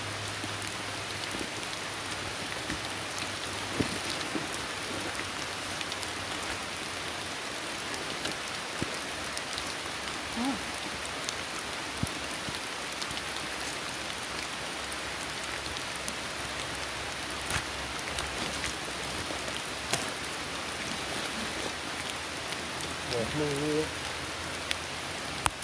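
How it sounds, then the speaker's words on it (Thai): Rain pours steadily outdoors over a mushroom-digging site, an unbroken dense hiss at an even level for the whole stretch, with faint voices near the end. "ฟังเสียงฝนตกแล้วจ้ะ"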